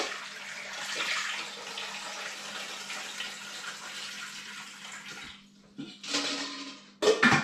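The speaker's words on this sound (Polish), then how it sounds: "Zalać oczywiście zimną wodą." Cold tap water gushes steadily into a pot of boiled eggs for several seconds, then stops, followed by a brief splash and a clatter near the end.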